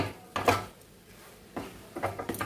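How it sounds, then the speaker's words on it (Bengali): Scraping and clinking of a utensil as a grated carrot mixture with cardamom and bay leaves is stirred in a pan, two short bursts of stirring separated by a quiet pause, close and moderately loud. "এবার এটাকে নাড়বো"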